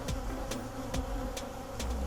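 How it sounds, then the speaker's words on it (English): Honey bees swarm and hum over an open hive being inspected in spring, a dense continuous drone close to the ear, with several sharp buzzing passes as individual bees fly near. "Lots of bees."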